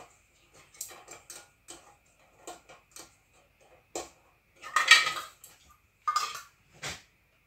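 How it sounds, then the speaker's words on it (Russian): Lids going onto glass jars of pickled tomatoes, a series of separate clinks and metallic taps with brief rattling, close by and irregular, the loudest knocks near the end and quiet gaps between. "Закрываем наши баночки крышкой"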